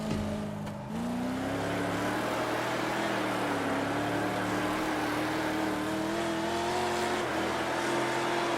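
Dirt race car engine in the WoO Dirt Racing video game, droning steadily at high revs with a brief dip early on, then a continuous loud, wavering engine note heading out to qualify.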